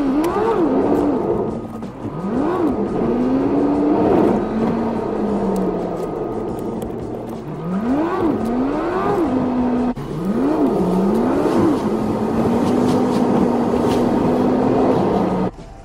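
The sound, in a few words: Alfa Romeo Giulietta car driving on a test drive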